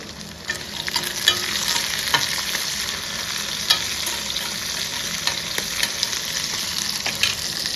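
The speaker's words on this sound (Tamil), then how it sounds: "இப்போ சின்ன வெங்காயம், இஞ்சி, பூண்டு இதையும் சேர்த்திக்கலாம். அதுவும் நல்லா வதங்கட்டும்." Shallots, ginger and garlic sautéing in hot oil, a dense continuous sizzle with frequent small crackles and spatula stirs, close and fairly loud, with no voices.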